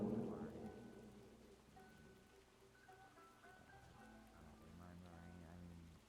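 Steady rainfall in the Overwatch game map Lavender Estate, a soft continuous hiss with a low rumble of distant thunder, heard faintly beneath light background music.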